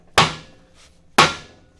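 A hammer strikes metal car parts twice during disassembly of a vehicle, two sharp, loud, close impacts about a second apart, each ringing briefly before fading.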